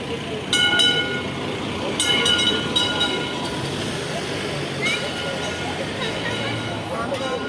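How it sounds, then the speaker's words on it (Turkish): The Taksim tram in Istanbul rumbles past with a low steady roll and some bright metallic squeals, while people talk nearby. "Bak gidiyor Taksim tramvayı."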